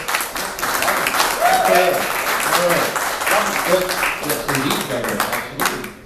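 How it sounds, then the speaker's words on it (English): An audience claps for a speaker at an event honoring AFG volunteers, a steady burst of applause lasting several seconds, with a voice speaking briefly over it. "Can we please have a round of applause for Mr."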